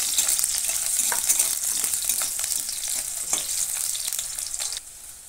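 Small diced potatoes fry in a pan for a vegetable dish, a loud close sizzle with scattered stirring scrapes and clicks, easing off sharply near the end.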